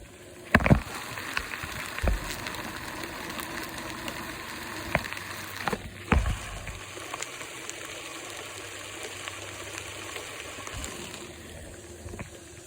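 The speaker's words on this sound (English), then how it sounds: "This is the sound of hundreds and hundreds of yellowjackets." Hundreds of yellowjacket wasps in a nest inside a foundation wall, a dense, continuous buzzing hum heard up close, punctuated by a few sharp knocks and thumps early on, with no voices.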